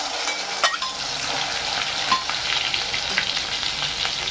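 Wet masala paste hits hot oil in a pan for a dry Maharashtrian chicken dish, a steady close sizzle and crackle with a few sharp spatters and stirring scrapes, no voices.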